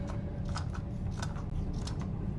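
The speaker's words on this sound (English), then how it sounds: "What I do is, like, I cut a corner, okay, and cut small squares out of it." Scissors cutting a sheet of chipboard into small squares, heard as a rapid run of close, crisp snips and crunches with no voices.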